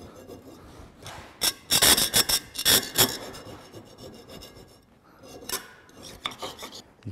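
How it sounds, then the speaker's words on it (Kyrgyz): A hand file rasps across the corners of a workpiece in quick back-and-forth strokes, grouped in loud bursts with quieter pauses between, close up and without speech. "өгөн жардам менен бурчтарын өгөлөп коебуз"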